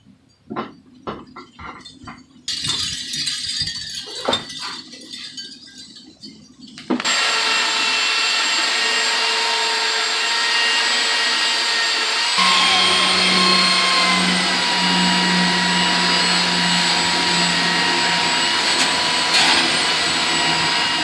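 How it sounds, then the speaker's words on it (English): A power sander whirs into a loud, steady high-pitched drone after some handling noises, sanding a wooden beehive body, running continuously with a slight shift in tone midway. "I'm going to go ahead and just sand down one of the hive bodies."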